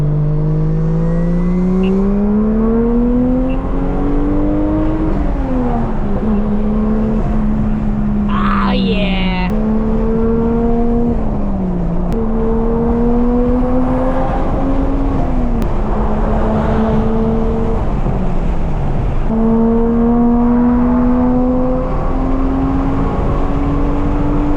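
A modified sleeper Toyota Chaser drives along at moderate speed from inside the cabin, its engine droning steadily and rising and falling through gear changes, with brief voices over the loud, continuous hum.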